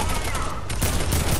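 Loud, dense bursts of rapid gunfire from the video game Fortnite fill the whole moment, a continuous clattering barrage with no gaps.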